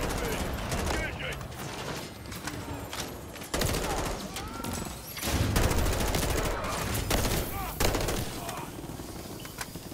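Heavy automatic gunfire aimed at a helicopter in Call of Duty: Modern Warfare 3, with dense bursts and sharp volleys running nonstop. Radio chatter and battle noise sit underneath throughout.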